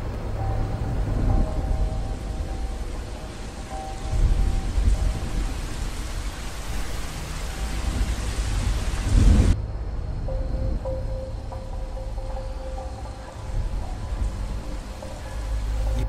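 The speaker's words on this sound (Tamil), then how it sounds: "அன்னைக்கு கனமழை பெஞ்சது" Heavy cartoon-style rain pours steadily and loudly, with rumbling thunder rolling underneath and a sharp crack of thunder about midway before the downpour continues.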